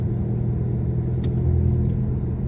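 Steady low rumble of a 2017 Chevrolet Camaro with a turbocharged four-cylinder engine cruising on the street, a constant drone heard from inside the car, with no talking.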